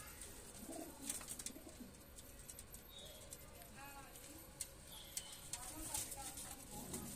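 Indian Dubaz pigeons coo softly in a loft, low burbling calls rising and falling, mixed with light clatter, wing flutters and occasional sharper taps, while someone talks nearby.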